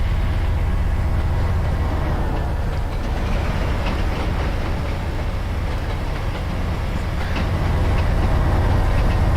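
A lash-up of heavy diesel locomotives in Warbonnet livery roars past close by in the Trainz video game, a loud continuous engine rumble with faint clacking of wheels over track.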